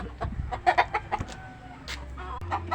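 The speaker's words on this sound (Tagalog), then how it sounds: "Ito po yung inahin nila." A mother hen clucks nearby in a short, irregular series of soft calls, with a little faint background noise and no talking.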